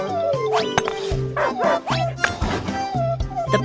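A cartoon puppy, injured, whimpers and gives high yips and short barks in quick succession over a synthetic musical background.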